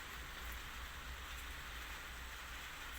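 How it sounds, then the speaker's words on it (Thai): Light rain falls steadily outdoors on an early morning after a heavier downpour, a soft continuous hiss that stays even and unbroken throughout with no voices. "ฝนยังตกอยู่นะคะเนี่ยไปปล่อยตกไม่แรง"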